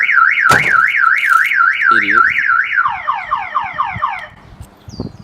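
A loud car alarm wails in a rapid warbling siren in a parking garage, then switches to a faster descending chirp pattern before stopping; a voice speaks briefly.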